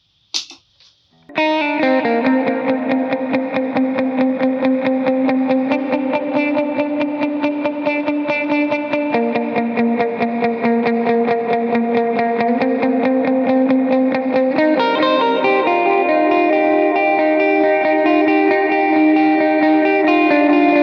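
Electric lead guitar drenched in chorus, echo and effects rings out a steady, continuous melodic line for about twenty seconds, loud and alone after a brief opening tap.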